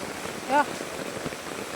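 Rain falls steadily onto a waterlogged yard with trees standing in floodwater, a constant even hiss, with a brief voice sounding once early on.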